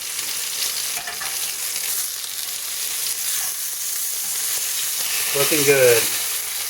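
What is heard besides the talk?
ostrich steaks sizzling in a covered frying pan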